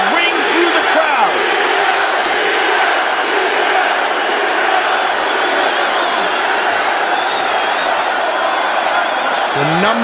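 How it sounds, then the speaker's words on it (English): A large arena crowd at a UFC fight between Conor McGregor and Nate Diaz chants and roars in a loud, sustained wall of voices, with rising shouts and whoops layered throughout. "the chants of Diaz ring through the crowd"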